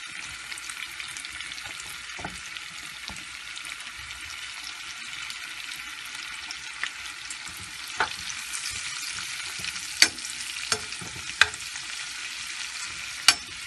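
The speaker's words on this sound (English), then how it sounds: "I'm going to just fry them" Already-cooked shrimp fry lightly in a pan with a soft, steady sizzle, punctuated by occasional sharp clicks and scrapes from stirring, with no voices.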